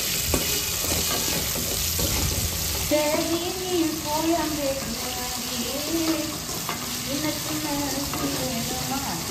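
Okra sautés with green and dried red chillies in a pan, a continuous sizzle with scraping stirs, while a voice hums or talks along in the background.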